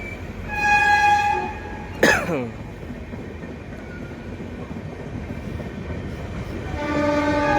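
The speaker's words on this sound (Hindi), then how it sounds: "तो गोमती एक्सप्रेस न्यू दिल्ली आगरा" The Gomti Express train on the New Delhi to Agra route passing close, with a loud horn blast, a sharp clank and the rumble of wagons, plus a cough or throat clearing nearby.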